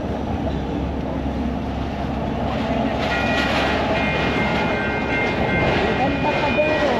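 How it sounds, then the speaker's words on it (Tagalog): A train rumbles past near the Embarcadero in San Diego, a steady loud roar with high metallic squeals and tones rising in the second half, heard continuously close by. "Iba rito, maraming tren yata rito nagdadaan talaga."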